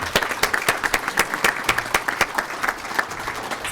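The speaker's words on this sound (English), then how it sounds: "Please give him a warm round of applause." Audience applause at a 2011 Chicago lecture event, a steady burst of many hands clapping in a hall, dense and fairly close, with no talking over it.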